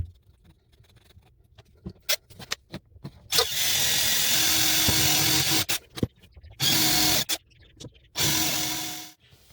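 A pink power drill struggles into hardwood in several loud bursts of whining motor and grinding bit, separated by short pauses with clicks and knocks, close by and without talk.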